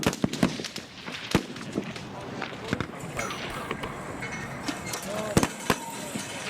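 Rifles fire on a live military recruit firing range, sharp cracks coming singly and in irregular bursts at moderate distance over steady outdoor background noise.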